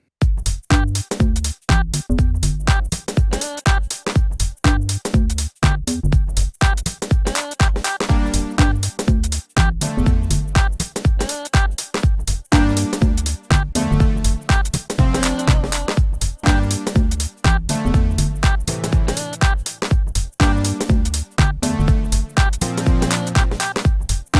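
A steady house groove played on Ableton Push, repeating synth chords over a punchy four-on-the-floor beat, loud and continuous throughout with no talking.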